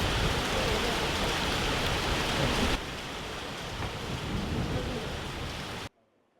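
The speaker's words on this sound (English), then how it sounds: "That's not fog, it's a rainstorm." A heavy rainstorm with thunder: a dense, loud roar of downpour with low rumbling throughout, easing slightly partway through before cutting off abruptly near the end.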